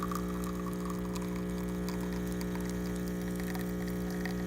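A Delonghi EC680M espresso machine pumps water during pre-infusion, a steady unbroken mechanical hum with a constant low drone and faint watery hiss, alone and unchanging.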